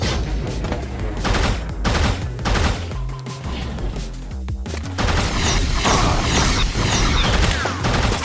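Burst rifle in the video game Choke Point firing three-round bursts, a dense run of rapid gunfire and impacts mixed with game effects, loud and continuous throughout.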